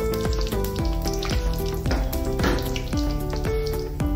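Cumin and mustard seeds crackle in hot oil in a pan, a dense, close sizzle with steady popping that runs through the whole stretch without speech.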